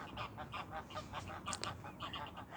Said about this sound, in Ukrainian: помилувалися цією природою і понаблюдали за цими гусями